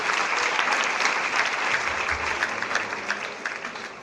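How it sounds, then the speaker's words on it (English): Loud, dense audience applause at a live speaking event as a guest speaker is welcomed to the stage, a steady wash of many hands clapping throughout with no talk. "Let's give a big round of applause"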